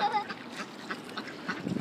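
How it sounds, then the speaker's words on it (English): Ducks quack repeatedly while being fed outdoors, a cluster of nasal calls at moderate distance over faint background noise. "We are feeding ducks today."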